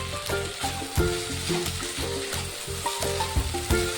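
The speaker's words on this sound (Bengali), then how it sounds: "মশলাটা হালকা ভাজা হয়ে গেছে" Spices fry in a pan with dried red chillies, fennel seeds and seven or eight cashews: a dense, steady sizzle broken by regular scraping stirs, loud and close with no talking.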